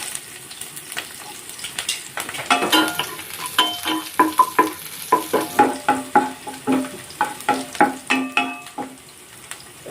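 Cumin, green chili and garlic fry in mustard oil in a pot, with a steady sizzle and a run of regular stirring strokes scraping the pan. The strokes grow clearer and more rhythmic midway, and no one talks.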